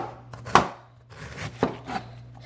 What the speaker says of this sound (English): You don't have to have a technique to slice the cabbage